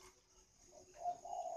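A chim mơ, a spotted dove variety with a pink body, gives a couple of soft, low, mellow coos after a brief near-silent start, close and alone.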